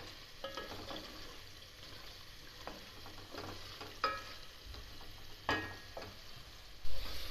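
Mutton frying in a pan for aloo gosht while being stirred: a constant soft sizzle broken by scraping strokes and a few sharper clinks of the spoon against the pot, with no talking.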